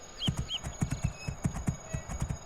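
A horse in the video game Two Worlds clip-clops in a steady rhythm of hoofbeats, with a couple of brief high chirps early on and no talking.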